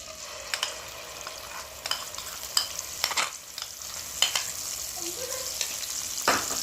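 Oil sizzles steadily in a pan as spices are added and stirred for beef karahi, with scattered clicks and scrapes of a utensil against the pot.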